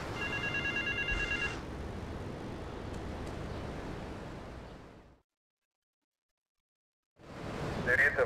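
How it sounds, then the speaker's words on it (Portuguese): A telephone rings inside GTA Vice City, a game bell sounding in a short burst at the start amid steady in-game background noise, then the audio drops to silence before game sounds return. "Ah, o telefone."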